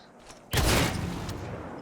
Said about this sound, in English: It's just gunfire.